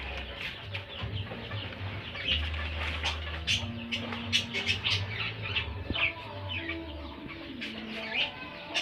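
Small pet birds chirp and cluck together in a backyard collection, a steady busy mix of short calls near and farther off, with someone talking over them at times.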